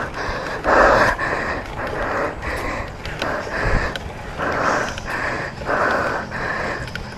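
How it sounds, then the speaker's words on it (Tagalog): Heavy, rhythmic panting from a cyclist climbing a steep uphill road, with repeated loud breaths and sniffs close to the microphone and steady wind noise behind them. "Ang dami ko ng hingal ah."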